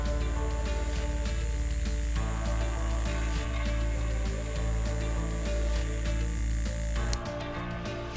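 A vibrating whip-pick brush tool buzzes steadily and close up, a constant mechanical hum running without a break until it cuts off near the end and leaves a quieter tail.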